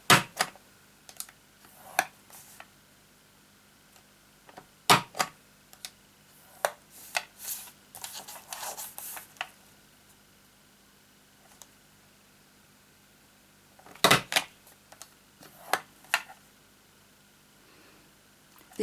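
An envelope punch board punches and scores paper in a Stampin' Up! craft setting: a series of sharp, separate clicks and snaps spaced irregularly, with a small cluster of rustling taps near the middle, otherwise quiet.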